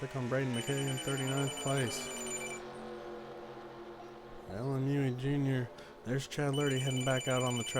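A telephone rings in a repeating electronic pattern of bursts with short gaps, fairly loud, mixed under a live sim-racing commentary voice that keeps talking throughout.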